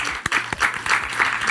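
An audience on a makeup competition finale stage applauds for Stella, a short burst of dense clapping that swells and fades in uneven waves, fairly close and loud.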